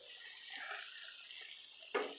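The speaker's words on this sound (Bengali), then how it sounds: "আমি এখন জল অ্যাড করে দেবো" Water is poured into a pot of chicken curry, a faint, steady trickling splash that lasts a couple of seconds and ends with a small, brighter splash.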